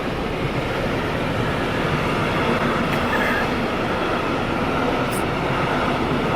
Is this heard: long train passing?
yes